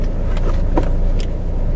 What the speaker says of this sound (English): Now we're headed to put some gas in the car at the gas station.